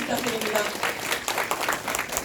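Audience applause filling a presentation hall, a dense steady clapping that lasts the whole moment, with a voice speaking over it.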